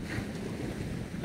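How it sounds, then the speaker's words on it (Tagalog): Strong sea waves roll in beside a roadside in Lobo, Batangas, a continuous rushing surf mixed with gusty wind buffeting the microphone, moderately distant and fairly quiet. "Ngayon eh, malakas yung alon"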